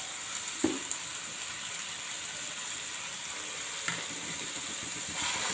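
Tomatoes sautéing in a pan for tomato rice give a steady, even sizzle throughout, with a couple of soft stirring knocks early and midway.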